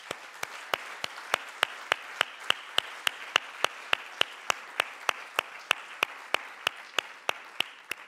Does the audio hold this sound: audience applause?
yes